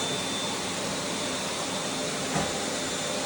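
A Dyson Cinetic Big Ball Absolute 2 corded vacuum cleaner runs with a steady, even whooshing roar that holds at a constant level from start to finish, close by, with one brief bump partway through.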